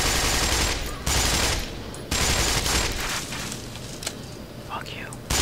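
Sustained bursts of rapid gunfire in the Black Mesa video game, loud and dense, broken by brief gaps, then fading to softer scattered shots with someone speaking over it.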